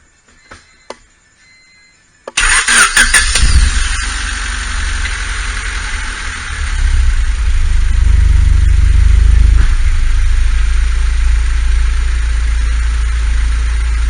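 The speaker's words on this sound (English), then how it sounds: "I'm gonna start the car and see how everything reacts" A 1998 Honda Civic DX with a newly installed adjustable fuel pressure regulator cranks briefly and catches, then settles into a loud, steady close-up idle with a deep, constant rumble that grows slightly fuller after a few seconds.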